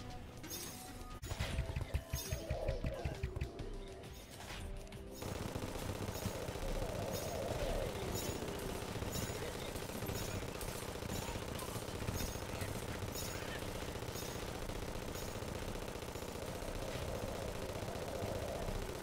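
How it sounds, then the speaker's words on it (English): Chain gun firing rapidly in Terraria, a dense continuous rattle of shots that runs steadily for many seconds after an uneven, choppier start. "The chain gun just shoots so fast."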